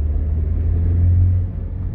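A 2004-era Audi A4 B6 Avant Quattro with a 1.8T engine driving along, heard from inside as a steady low engine rumble and road noise that eases slightly near the end, with no talking.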